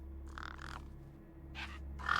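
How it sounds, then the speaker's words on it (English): Gang crows caw over a corpse in Beyond a Steel Sky. Several harsh caws come in two pairs with a pause between them, fairly close and set against a constant low background drone. "The gang birds were eyeing up the corpse hungrily."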